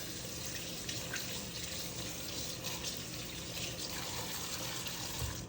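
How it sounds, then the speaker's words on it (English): Hands being rinsed under a running kitchen tap while making pancakes, a steady close rush of water splashing into the sink for several seconds with no talking. "then we're just going to rinse them all out"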